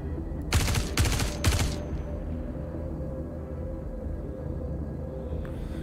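Gunfire in the Star Citizen video game, played in VR on a Quest 3, comes as three rapid automatic bursts in quick succession, loud and close, followed by a steady low ambient hum.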